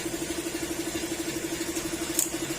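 A Honda Click 125 V3 scooter with an ECU problem runs at idle, a steady, rapid, even engine pulse heard up close and alone, with a brief faint click near the end.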